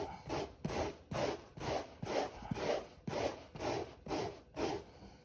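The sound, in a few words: rasp shaving Honda CRF300L rally seat foam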